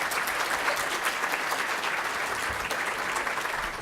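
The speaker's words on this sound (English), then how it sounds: "Round of applause." An audience at a Chicago pension panel applauds a speaker, dense steady clapping at moderate level throughout, with little talk over it.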